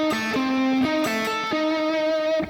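Electric guitar playing the second section of the intro to a song, a quick run of clear picked single notes with ringing open-string tones, close and alone with no talking.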